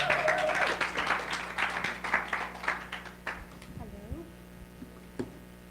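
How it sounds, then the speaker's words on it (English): Audience applause at a Saturday church service, dense clapping for a few seconds that thins out and fades, with a stray voice near the end. "a round of applause for her"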